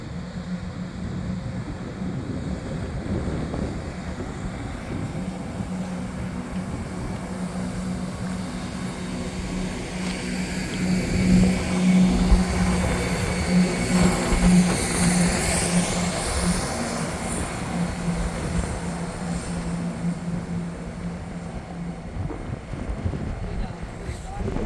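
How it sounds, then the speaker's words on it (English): A CrossCountry passenger train departs Nuneaton station on the West Coast Main Line, a diesel rumble and engine drone swelling midway then easing, with wind buffeting the microphone and someone speaking over it. "departing now is the severely delayed 1409 cross country service from Stansted Airport to Birmingham New Street"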